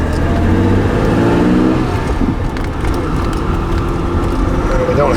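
A European-version BMW M1 engine revs and hums steadily at close range, a strong low rumble with a brief dip partway through, mixed with talk.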